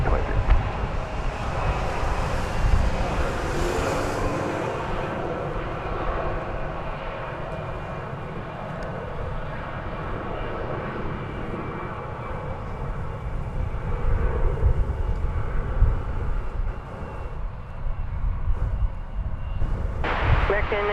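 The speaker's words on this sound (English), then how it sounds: "A319 to Morelia in Mexico is revving up and getting ready to go." An American Airlines Airbus A319 bound for Morelia, Mexico, revs its jet engines on runway 36 right at DFW Airport, a steady, broad roar that holds throughout with wind buffeting the microphone, while a voice talks over it.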